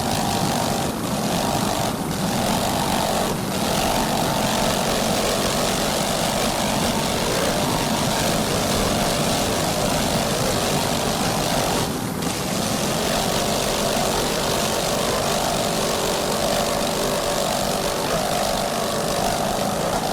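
A 40-foot Fountain powerboat driven by two 1,200 horsepower Joey Griffin inboard engines races at speed, giving a loud, continuous engine roar with a broad rushing wash during a Key West offshore race.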